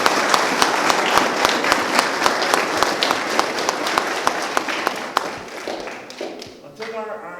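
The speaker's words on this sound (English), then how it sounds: "Round of applause for the gentlemen." A crowd at a national flag presentation claps for the gentlemen, with steady, fairly loud hand claps that thin out and fade toward the end as a voice starts to speak.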